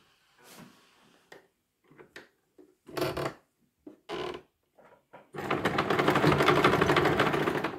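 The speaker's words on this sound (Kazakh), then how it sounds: "Енді аберлоктап шығамын." An overlock sewing machine stitches fabric in a sustained, loud mechanical whir lasting several seconds, preceded by short clicks and bursts of handling and brief machine starts.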